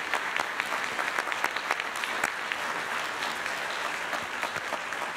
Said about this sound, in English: Let's give this amazing group of leaders another round of applause.